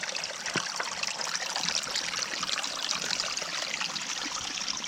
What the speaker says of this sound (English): look at that water coming straight out of the rock